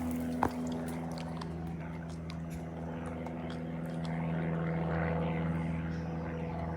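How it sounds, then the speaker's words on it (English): A distant propeller airplane drones steadily high overhead, a faint continuous hum under outdoor ambience that swells slightly toward the end. "You hear the airplane up there? It's pretty high up, isn't it?"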